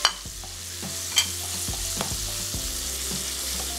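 Minced chicken breast fries with garlic in a pan, giving a bright, steady sizzle. A few sharp knocks and stirring scrapes stand out nearby, and nobody speaks.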